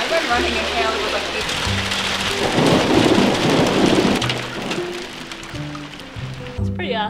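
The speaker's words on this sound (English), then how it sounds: "I'm a big fan of thunder and lightning too" Thunder rumbles through a hailstorm, a rolling low boom swelling mid-way over the constant roar of falling hail and rain, heard from indoors with voices and low tones underneath.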